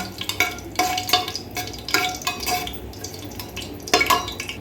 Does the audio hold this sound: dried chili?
yes